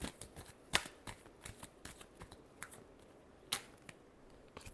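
Tarot cards are shuffled by hand in quick riffling bursts with a couple of sharper slaps, close and fairly quiet, with no talk over them.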